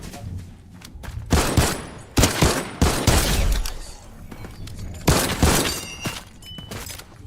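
Bursts of rifle gunfire in a shooter video game, loud clustered volleys of rapid shots with gaps between them, sharp and close, no talk over them.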